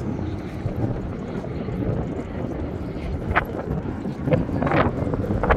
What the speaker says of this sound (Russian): Какие там, что там вертолеты показывают, интересно. Или просто летают.